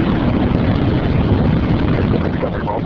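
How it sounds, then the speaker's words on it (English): Space Shuttle Discovery booster ignition and liftoff on the STS-121 launch as heard from the cockpit: a loud, continuous broadband rocket roar and rumble with steady intensity throughout, no voices. "2, 1, booster ignition. And liftoff of the Space Shuttle Discovery"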